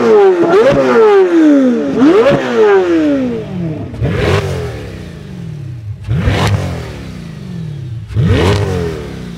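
Chevrolet Corvette Z06 and E-Ray V8 engines rev in turn, loud and close, with several sharp throttle blips that climb quickly and then fall away, each burst followed by a decaying drone.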